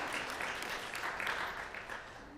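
A church congregation applauds during a baptism at a Sunday morning worship service, steady broadband clapping filling the room throughout without a break, fairly distant and soft.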